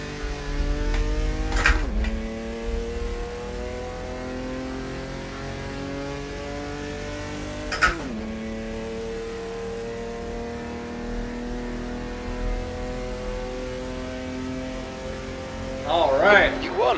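A 1979 Opala race car engine in a video game revs steadily on the Nordschleife, its pitch climbing through long gear pulls with two sharp upshifts and a gear change near the end, while someone talks over it.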